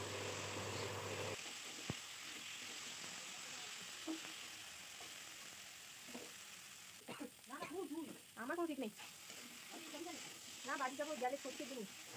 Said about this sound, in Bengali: নুন ও হলুদ দিয়ে আমি মশলাটাকে 4 থেকে 5 মিনিট সময় নিয়ে ভালোভাবে কষে নেব